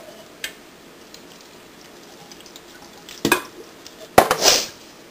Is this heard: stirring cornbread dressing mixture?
yes